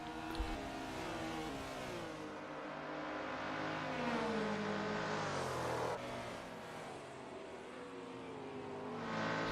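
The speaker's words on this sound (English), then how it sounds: "Warren now being passed by 2 quick Porsches of Rian Barkhuizen and Johnny Gelderneys" Racing Porsches and a Datsun in a sim racing handicap race at Goodwood, engines whining and rising in pitch as cars pass, a continuous moderately loud drone with shifting tones and no talking.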